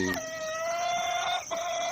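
An older laying hen's drawn-out call rings clearly, with a sharp cluck at the start and another break near the end, over steady farmyard background noise.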